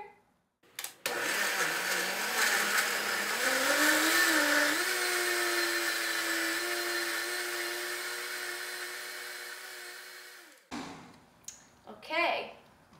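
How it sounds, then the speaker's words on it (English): Countertop blender whirring through a thick raw vegan chocolate cake layer: a loud motor whine that climbs in pitch as it speeds up, then holds steady for several seconds before shutting off, followed by brief handling noises. "Now let's turn on the blender."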